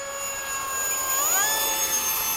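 Jet aircraft taking off at an airshow, one of an F-15, F-104 and Hawk formation at Bayside, giving a loud steady turbine whine that bends upward in pitch midway as the engines spool up, with no talk.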